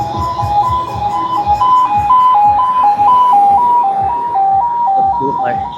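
A rescue vehicle's siren wails in a steady two-tone alternating pattern as it passes along the Mekong riverside in Vientiane in the evening, loud and close over street noise, with traffic rumble beneath.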